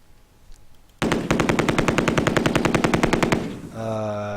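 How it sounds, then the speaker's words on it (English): Machine gun in a tank battle video game fires a long, loud, rapid burst of evenly spaced shots lasting over two seconds, then stops, leaving a steady engine hum. "Boy, that machine gun hasn't done anything for us."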